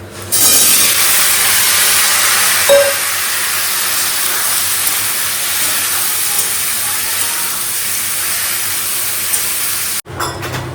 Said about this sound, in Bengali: এখানে লাউয়ের জন্য ফোড়ন দিয়ে দিচ্ছি জিরা ফোড়ন দিলাম